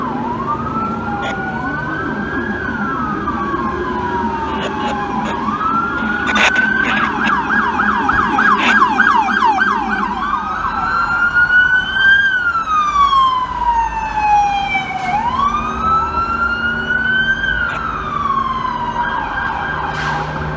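Loud wailing FDNY/EMS ambulance sirens rising and falling in long sweeps, several overlapping, close by and continuous, responding to a serious accident in New York City.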